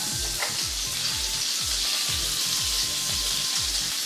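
Lemony crusted shrimps fry in a hot pan with a loud, steady sizzle and crackle that goes on throughout, alongside faint scraping and stirring sounds, with no talking.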